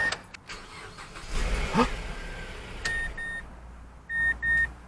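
A Mazda 5 with an engine of about 93,000 miles cranks and catches into a brief idle, followed by several electronic dashboard beeps and chimes, close and fairly loud with no talking.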